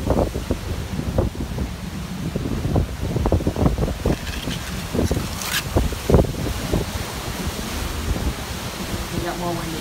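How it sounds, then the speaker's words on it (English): Strong gusting wind during Hurricane Irma in Florida in 2017, buffeting the microphone with loud irregular rumbles and bursts, the roar continuous throughout. "It got more windy."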